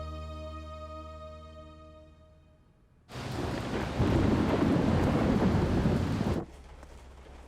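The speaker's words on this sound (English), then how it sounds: "Looks like a big storm is coming." Cartoon thunderstorm: after a fading tonal hum, a loud burst of rain and rolling thunder crashes in and roars for about three seconds, then cuts back to a quieter steady hiss of rain.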